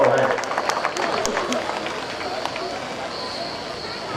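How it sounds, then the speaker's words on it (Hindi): Outdoor crowd applause at a police parade in a police lines ground for Republic Day in Hathras: a dense, continuous wash of many hands clapping, with sharper scattered claps early on, steady and fairly loud for about four seconds. "मैं चाहूंगा एक बार जोरदार तालियां बजा करके परेड में शामिल हमारे साथियों का हौसला बढ़ाएं।"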